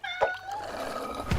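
A house cat meows in a short online cat video, giving a clear, close, drawn-out meow with a softer sound at its start and end.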